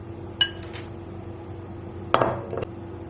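Two clusters of clinks ring out as canned pandan jelly ingredients are dropped into a bowl, sharp and close against a quiet kitchen background, with a brief gap between them.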